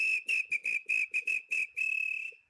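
A single person whistles loudly at close range in a run of sharp, clipped bursts that ends in one longer held note, with no other sounds.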